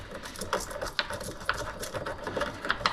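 A small mortar and pestle grinding cardamom and ginger into powder, with sharp, irregular tapping and clicking strikes over a soft scraping background, close and moderately quiet.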